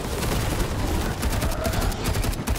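A Halo series prop weapon with muzzle flash fires on full auto, a loud, close, rapid stream of sharp shots that fills the whole stretch without pause.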